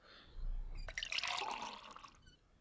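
Water dripping and trickling from a torn cup in the adventure game Runaway, a close wet splashing dribble that starts abruptly, runs for about a second and then thins into scattered drips, fairly quiet.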